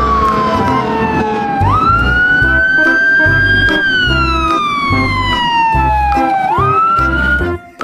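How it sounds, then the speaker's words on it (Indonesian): Loud, close wailing siren from a toy fire truck, its pitch sweeping up and gliding slowly down in repeated cycles, with no talking. "Yang ini ada mobil pemadam kebakaran."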